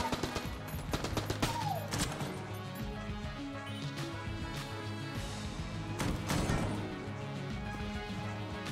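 A Thompson submachine gun fires fast bullets in Enter the Gungeon, sharp repeated shots with crashing impacts over looping game music, fairly quiet overall.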